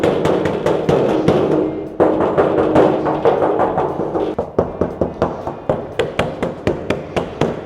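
Knuckle taps on a bare Toyota 40/80-series 4x4 door panel with no sound deadening, a quick series of hollow, tinny knocks, close and fairly loud, slowing into evenly spaced single raps toward the end.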